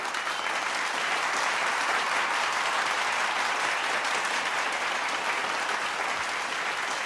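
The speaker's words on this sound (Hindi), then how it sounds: "करीब 2 मिनट तक लगातार तालियां बजती रही।" Sustained audience applause from a large crowd in a hall, steady and dense clapping at an even level throughout, with no voices standing out.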